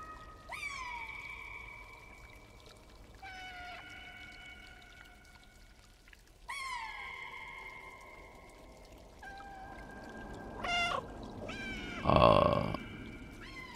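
Cat meowing in the video game Stray: several drawn-out, falling meows spaced a few seconds apart, moderately close, then a louder splashy, gurgling burst near the end.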